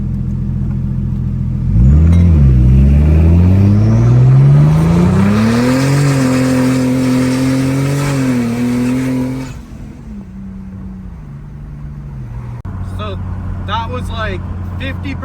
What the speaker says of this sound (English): We're gonna do a small launch. I'm not gonna go full throttle,